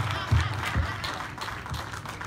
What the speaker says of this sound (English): I'm going to clap for myself.